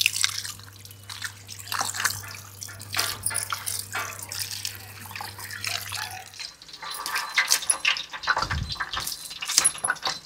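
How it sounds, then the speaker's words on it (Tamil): Bananas are washed under a running tap, water pouring and splashing steadily, with drips and handling noise as the fruit is rubbed clean nearby. "நல்லா வாழைப்பழத்தை நல்லா கழுவி எடுத்துப்போம்."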